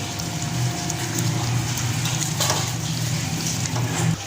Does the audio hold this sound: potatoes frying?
yes